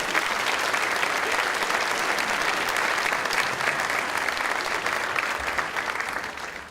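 A dinner audience at a Miamisburg Founders Day event applauds city council members, a full, sustained round of clapping from a large crowd that holds steady and fades slightly at the end.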